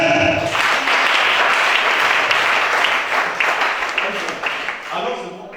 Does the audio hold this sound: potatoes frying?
no